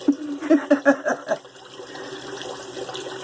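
Tap water runs into a bathroom sink during a straight-razor shave, with a few close splashes as hands cup water to the face, then a softer, steady trickle.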